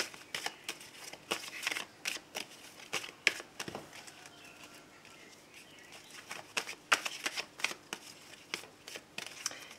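Tarot cards are shuffled and cut, producing soft riffling bursts and papery flicks in irregular clusters with a quieter pause in the middle, close and fairly faint.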